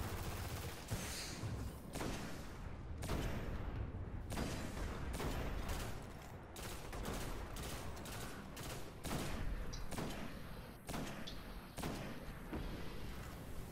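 Gunfire and blasts from the Destiny video game, including a grenade explosion, as a dense, loud barrage of sharp repeated shots and booms that keeps going without a break.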